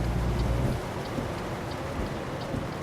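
Rain falls steadily in American Truck Simulator. A dense, even patter sounds alongside a low truck rumble, loudest at the start and then settling, with no voices.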